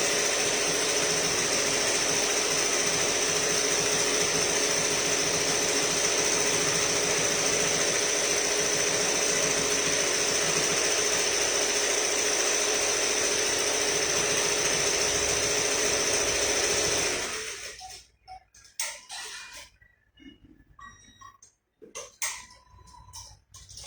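An embroidery machine runs steadily while stitching a t-shirt, a loud continuous mechanical hum with fast ticking for most of the clip, then it stops abruptly and leaves only faint scattered handling noises.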